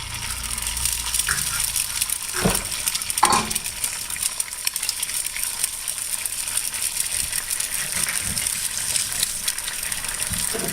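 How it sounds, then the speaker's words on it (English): Eggs sizzle in hot bacon grease in a pan, a steady bright crackle running throughout, with a couple of sharp clinks partway through. "Now, we've got enough bacon grease in here already. We're going to put our eggs in here."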